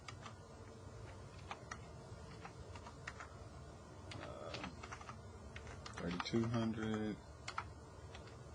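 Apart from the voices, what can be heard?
typing data into a calculator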